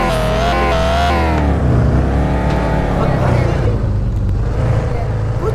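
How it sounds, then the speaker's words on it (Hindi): A car engine revving in Car For Sale Simulator 2023, a loud continuous engine roar with rising and falling pitch as the revs climb and settle, heard alone without talk. "ज्यादा आवाज करती है भाई ये गाड़ी"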